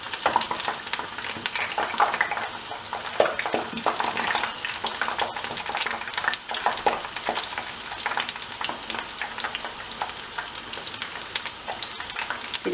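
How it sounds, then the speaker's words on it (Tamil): Methu vadai fry in hot oil, a dense, steady sizzle with crackling pops as the fritters are flipped, close and continuous with no talk. "திருப்பி விட்டுட்டு கொஞ்ச நேரம் பொரிய விடுவோம்"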